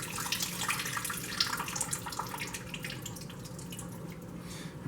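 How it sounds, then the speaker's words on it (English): Water draining out of a bowl of freshly removed pomegranate seeds, a steady close splashing and trickling with dripping that runs without pause and with no talk. "I'm going to try to drain the water out of it."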